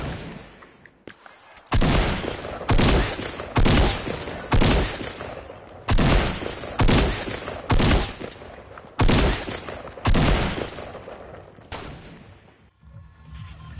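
Tactical shotgun gunfire in a large team battle royale video game: about ten loud, sharp blasts in an uneven rhythm, each with a short decaying tail, sounding close and alone with no talk.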